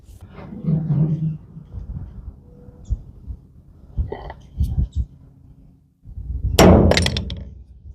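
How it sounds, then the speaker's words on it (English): Several metallic hammer clangs on the dented body of a 1989 Chevy K1500 truck at uneven intervals, a few sharp single strikes and a loud ringing blow near the end, with some muffled noise between. "I might hammer that in a little now that I see that."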